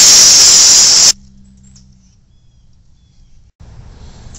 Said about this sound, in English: I'm going to take a little brake parts cleaner and clean out the grease without hitting the intake